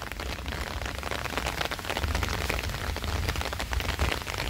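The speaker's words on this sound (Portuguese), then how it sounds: "A chuva tá aumentando." Rain falls steadily on garden plants, a dense, loud patter of drops on leaves that holds throughout and grows heavier toward the end, with no voices.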